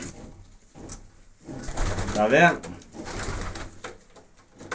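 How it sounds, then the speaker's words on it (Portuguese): Young pigeons coo softly in soft, rolling bursts at close range, while someone talks over them in Portuguese. "E os pombos novos que chegou pra mim ontem aí, ó."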